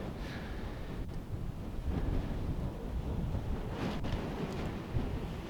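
Wind gusting across a high mountain campsite in Argentina's San Juan Province, a low continuous rumble buffeting the microphone with a couple of brief soft knocks, no voices.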